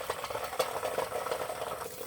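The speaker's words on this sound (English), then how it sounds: "Now it seems like they're cooking like popcorn" Pinto beans simmer in a pot of water on high heat, giving a soft, continuous bubbling and popping with small irregular bursts.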